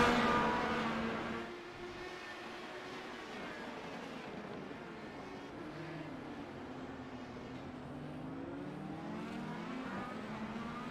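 IndyCar race cars in a racing video game howl past as engines rev and shift, a loud continuous drone of several cars battling closely, pitch rising and falling throughout.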